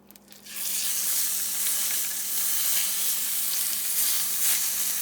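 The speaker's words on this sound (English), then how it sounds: "Got a nice sizzle to it." Fish fillet pan-frying in olive oil in a hot skillet gives a steady, loud sizzle that starts abruptly and hisses continuously, close up, with no talking.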